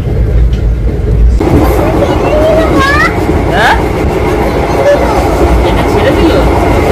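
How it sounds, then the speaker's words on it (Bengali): A train pulls away from a station after running late, with steady rumbling rail noise and a few brief wheel squeals. Voices talk faintly in the background. "ট্রেনটা ছেড়ে দিল।"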